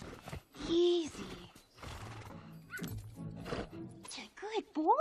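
A horse in an animated film neighs with a rising and falling whinny, mixed with hoof clip-clops, snorts and people talking over a busy soundtrack.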